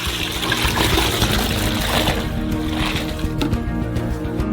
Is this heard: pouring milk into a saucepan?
yes